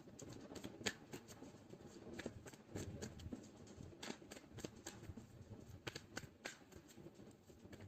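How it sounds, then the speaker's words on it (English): Tarot cards are shuffled close by in quick, soft, papery riffles and taps that repeat steadily, faint and alone. "let's pull some cards from universe"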